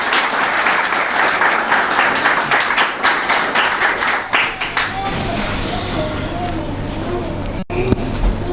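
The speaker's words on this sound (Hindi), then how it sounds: "आइए बाप के लिए जोरदार ताली।" Loud applause from a church congregation at a Father's Day service in Sohar, Oman, dense clapping for several seconds that fades into room tone as a voice speaks over it.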